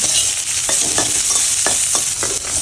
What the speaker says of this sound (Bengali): প্রায় একটা মিডিয়াম সাইজের পেঁয়াজ স্লাইস করা ছিল সেটা দিয়ে মশলাগুলো সমস্তটাই খুব ভালো করে ভাজতে হবে